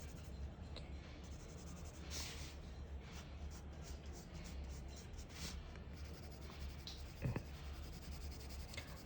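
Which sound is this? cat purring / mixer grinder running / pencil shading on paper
pencil shading on paper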